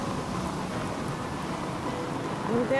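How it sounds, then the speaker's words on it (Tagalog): Steady rain hisses continuously with a low rumble underneath, suggesting distant thunder, and a brief tonal sound rises near the end. "Uy, umuulan."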